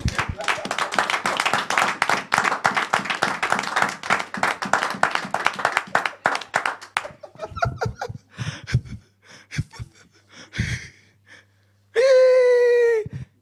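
An audience acclaims Jesus with about seven seconds of dense, rhythmic applause, then scattered claps and voices. A long, loud, high-pitched vocal cry or exclamation rises near the end.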